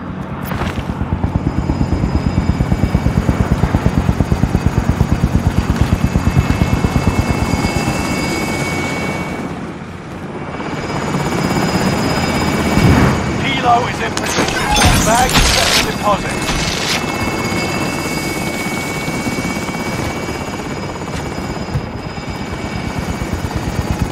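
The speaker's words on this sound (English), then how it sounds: "Enemy chopper incoming!" An enemy attack helicopter in the shooter Call of Duty Warzone Pacific roars loudly with a throbbing rotor and whining engine, dips briefly in the middle, then swells again amid sharp crashes and shattering impacts, with game voice lines over it.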